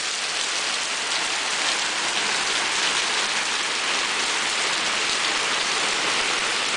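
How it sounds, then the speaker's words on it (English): Heavy rain pours down steadily, a dense, constant hiss of water on the road and gutters with no break and no voices. "It just started raining about 10 minutes ago,"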